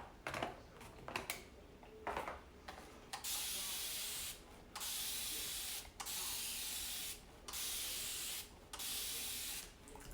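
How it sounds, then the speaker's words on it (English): A mister bottle sprays water in a series of short hissing bursts, about five, separated by brief pauses, fairly quiet and close. "take a chippy brush and your mister bottle and spray it."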